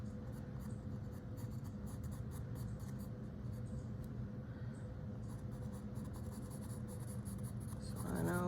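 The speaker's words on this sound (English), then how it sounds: "I kind of sketch in where my shadows are going to be first" Charcoal scratches and sketches across paper in steady, quiet, continuous strokes, shading in the shadow areas of a drawing; close and soft, with no voices.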